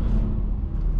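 A naturally aspirated inline-six in a BMW E90 drones low and steady from inside the car, a brief, close, rumbling engine note with no talk over it.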